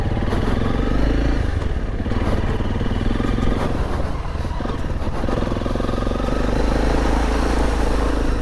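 A motorcycle rides an off-road coastal trail, its engine droning loudly and continuously with wind rush and rattling clatter from the rough ground, no voices.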